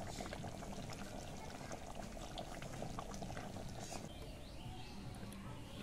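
Chicken curry cooked with apple and mango leaves, with nutmeg, mace and fried garam masala added, bubbles and simmers in a pot, a soft continuous burble close by.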